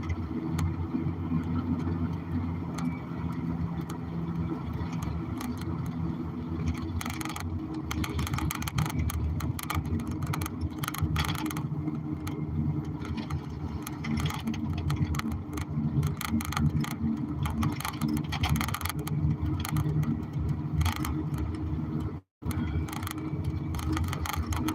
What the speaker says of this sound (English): About to be a truck going by your house now